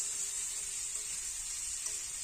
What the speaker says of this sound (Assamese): আলুখিনি সিজালৈ আমি ভাজি থাকিব লাগিব